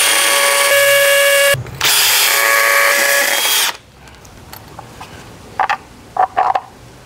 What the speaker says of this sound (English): just make sure that if you drill, you don't want to drill through your pipes.